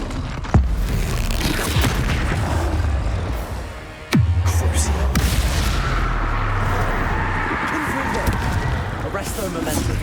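Two heavy booming blasts of the Bombarda blasting curse in Hogwarts Legacy, each a sharp loud crack with a deep rumbling tail, set in a dense bed of game combat noise with speech.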